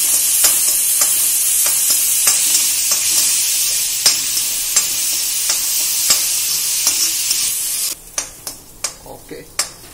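Onions frying in a pan for Amritsari Punjabi chole, a steady loud sizzle with regular scraping stir strokes, then the sizzle drops away near the end leaving sharper, sparser clinks.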